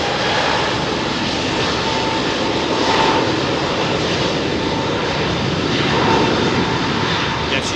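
An Airbus A380 airliner passing overhead near Heathrow, a loud continuous engine roar with a steady broadband rush that barely varies across the span.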